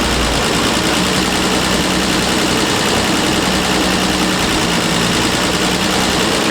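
Car engine with a Zenith-Stromberg carburettor idling slightly fast, a steady, dense, close rumble with even hiss and no talking.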